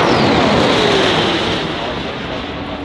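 A RAAF F-35A jet roars loudly overhead during a solo airshow display, a broad sweeping roar with a falling whine as it passes, fading slightly toward the end, with a commentator's voice over it.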